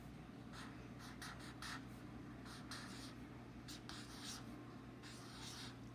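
A pen scratches out a single handwritten word in short bursts of strokes, close and fairly quiet over a steady low hum.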